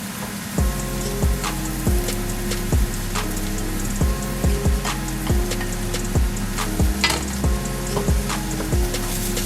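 Paprika, cumin and chili powder going into a hot pan for chilli con carne, a constant loud sizzle broken by a regular series of sharp knocks and scrapes, with no voices.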